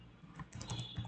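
Keystrokes on a computer keyboard while entering CSS code, a quick cluster of light clicks and taps in an uneven rhythm, close and fairly soft, with no voice.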